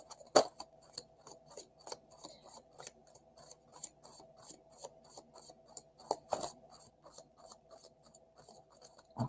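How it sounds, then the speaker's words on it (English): Soft, rapid riffling of tarot cards being shuffled repeats in quick bursts at a steady rhythm, close and quiet, with a couple of sharper snaps. "That was a good shuffle."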